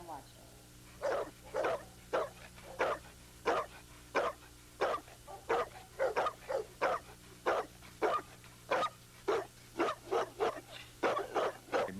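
A Cane Corso, an Italian cattle, hunting and watch dog breed, barks in a steady series of about twenty loud, evenly spaced barks, close by over a low steady hum.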